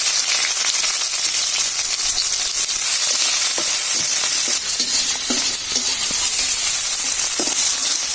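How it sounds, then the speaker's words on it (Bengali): Onion and green chillies fry in hot oil in a wok, a loud, continuous crackling sizzle close by, with occasional stirring clatter and no speech. "তেল গরম হয়ে গেছে, এখন দিয়ে দিচ্ছি আমরা পেঁয়াজ আর সাথে কাঁচা লঙ্কাও।"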